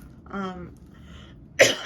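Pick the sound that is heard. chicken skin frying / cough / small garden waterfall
cough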